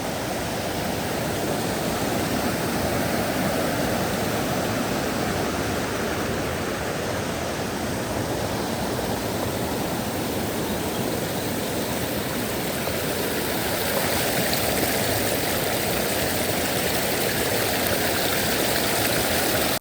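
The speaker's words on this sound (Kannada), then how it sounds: "ಇವಾಗ ನೋಡಿ ನೀರು ಹೆಂಗೆ ಬರ್ತಾ ಇದೆ" Water rushing down a forest waterfall and stream at Jaguar Falls near Bangalore, a dense continuous roar of flowing water that stays loud and even throughout with no voices.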